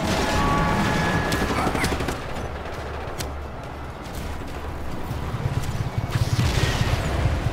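Sustained automatic gunfire in the open-world action game Just Cause 3, shooting holes into a target, a dense continuous rattle with booming impacts throughout.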